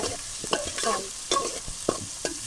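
Shrimp frying in hot oil in a village kitchen, with a steady sizzle broken by repeated scraping stirs of a spatula in the pan, close and clear with no talking.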